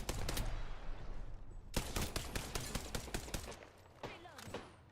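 Automatic weapon fire in the video game Apex Legends: rapid bursts of gunshots, loud and close, running almost without a break and only briefly thinning before picking up again.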